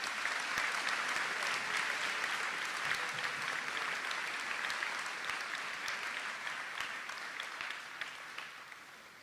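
An audience at a 2022 senior awards ceremony claps in sustained applause that fills the room, holding strong at first and then tapering slowly toward the end.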